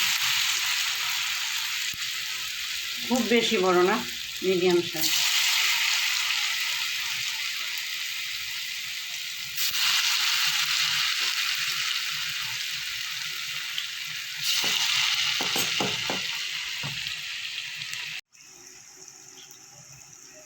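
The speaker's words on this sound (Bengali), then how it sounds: "এবার আমি একে একে বড়াগুলো যে যেরকম শেপে ভাজতে পারে, আমি এরকমভাবেই ভাজছি।" Yardlong bean fritters fry in hot oil in a small pan, giving a broad, steady hiss that swells and eases in stretches over about twenty seconds. Someone speaks briefly twice over the sizzle, and the sound drops to a faint tail at the end.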